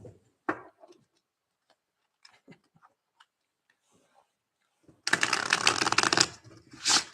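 Tarot cards being riffled and shuffled, with a few soft taps and card flicks at first, then a dense burst of rapid crisp shuffling near the end, close and fairly quiet.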